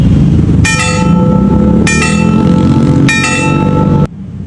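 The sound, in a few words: railway level crossing warning bell (genta)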